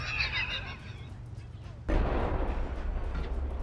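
Sudden loud explosion in the video game Arma 3 Altis Life, a heavy low rumbling blast that cuts in midway after quieter ambient noise and keeps booming.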